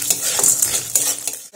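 Raw peanuts with chana dal and urad dal being stirred and fried in a wok, a spatula scraping and clinking against the pan in uneven strokes with a faint sizzle underneath.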